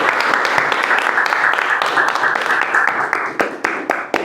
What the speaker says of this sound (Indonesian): tepuk tangan untuk Mas Rifki.